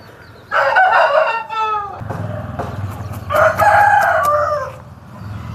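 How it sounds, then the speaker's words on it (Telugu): A red Kakera fighting rooster crows twice, loud and close, each call long and drawn out, with a low background rumble between. "కోడిని అయితే చూసుకోండి"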